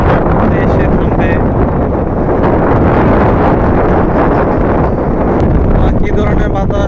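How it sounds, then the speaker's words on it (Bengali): Strong gusty wind before a storm at Joydebpur railway station, buffeting the microphone with loud, constant roaring wind noise throughout. "অনেক বাতাস হচ্ছে, ঝড় বৃষ্টি হবে।"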